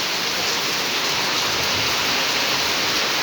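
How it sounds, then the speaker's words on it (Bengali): Heavy rain pours down steadily in a dense, even roar of drops on surfaces, close and loud throughout with no pauses or voices. "দেখেছেন কিরকম বৃষ্টি হচ্ছে?"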